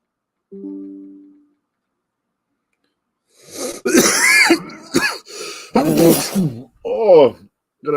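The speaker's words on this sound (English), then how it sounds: "gonna have a coughing attack" A person breaks into a coughing fit, with harsh, loud hacking coughs and throat clearing in close bursts after a brief hum and a silent pause.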